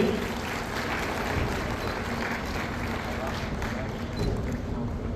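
An audience at a chief minister's meeting welcomes a speaker with loud, dense applause that holds steady as a continuous wash of clapping for the whole stretch.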